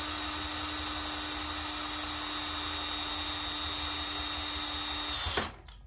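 A power drill boring a 1/2 inch hole in a guitar body runs with a loud, steady whine that stops abruptly near the end, with no talking.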